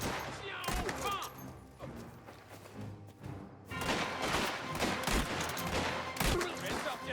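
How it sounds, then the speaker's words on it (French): Gunfire in the video game Mafia: The Old Country, dense bursts of shots and fusillades with a brief lull midway, loud and close, with game sounds mixed in. "Contente-toi de tirer!"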